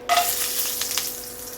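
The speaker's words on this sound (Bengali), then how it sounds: "এবার আমি কয়েকটা ডালের বড়ি ভেজে নিচ্ছি" Bengali lentil dumplings (dal bori) hit hot oil with a sudden loud sizzle, settling into a bright, close hiss with scattered crackles.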